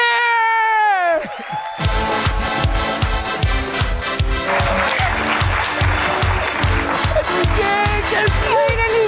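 A studio audience bursts into loud, sustained applause with cheering and whoops at a Pakistani television talk show, the steady clapping continuing after a brief spoken introduction at the start.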